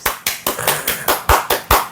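Audience clapping greets a guest lawyer introduced at a talk event, heard as a run of roughly eight sharp, evenly spaced claps or bursts, close and clear with no voices over them.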